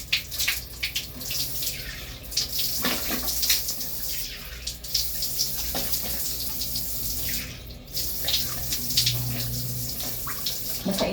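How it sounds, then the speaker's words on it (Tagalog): Water splashing and running as a face is washed at a sink, a steady wet wash with irregular splashes throughout, fairly close and continuous, no speech. "Basain muna natin ang ating face."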